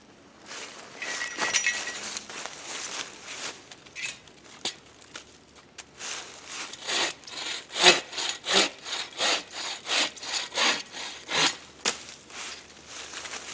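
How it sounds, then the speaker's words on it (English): A push-pull saw blade cuts dry, naturally split firewood outdoors, the rasping strokes starting sparse and then settling into a fast, steady back-and-forth rhythm, close and fairly loud. "with a push-pull blade, you can wedge it between a tree, and you can either pull towards you or push away from you"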